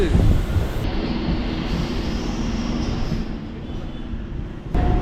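Chennai suburban train running between Beach and Tambaram, a loud continuous rumble with wind buffeting throughout and a brief shift in the noise near the end.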